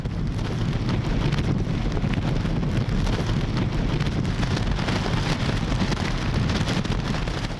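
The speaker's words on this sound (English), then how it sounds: "Typhoon Rippa brought with it the city's first hurricane signal in 2 years, with gusty winds and heavy rain." Typhoon Wipha's gusty winds and heavy rain lash Hong Kong, a loud continuous roar of wind buffeting the microphone over dense, steady rainfall with no letup.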